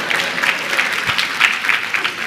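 Wives in a church congregation clap together in a lively, dense burst of applause, close and fairly loud throughout with no speech over it.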